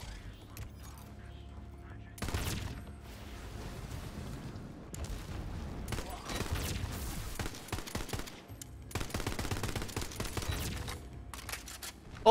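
Rifle fire in a shooter video game comes in several loud bursts of rapid shots with clattering mechanical sounds between them, close and sharp, over quieter game ambience.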